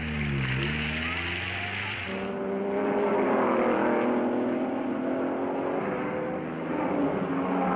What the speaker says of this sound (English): And last away, Willy Maresi, Ricardo Rodriguez and Olivier Gendebien shared the Dino 246 SP